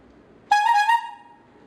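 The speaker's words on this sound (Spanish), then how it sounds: "ahora se tiene que comunicar por bocinazos" A single car horn honk sounds close and loud, a bright steady tone lasting under a second before fading out, with no talking.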